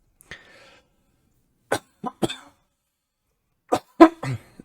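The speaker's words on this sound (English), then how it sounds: "I apologize for all my coughing" Several sharp coughs, close up, come in two clusters separated by a silent pause, the last few rough and throaty.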